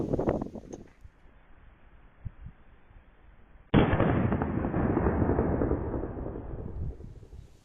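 A single sharp report from a .38 caliber pistol firing Gold Rex ammunition into a clay block rings out halfway through, after a quiet stretch with a few faint knocks, followed by a sustained, noisy rumbling tail.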